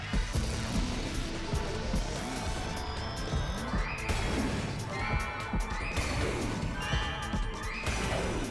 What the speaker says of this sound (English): Please give me the power to stop this rampaging horse.